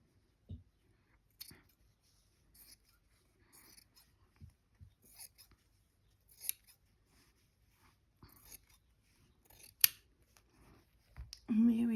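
Scissors cut fabric for a Christmas cushion in a quiet room, giving sparse, faint individual snips spread over several seconds, followed by a brief louder sound at the end.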